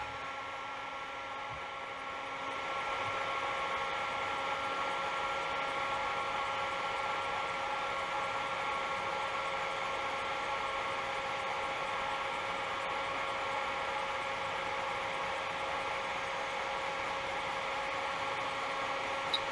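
A heat engine wheel set at 130 degrees Celsius spins with a steady whirring, mechanical hum. The hum rises slightly after the first couple of seconds and then holds constant and fairly quiet, with no voices.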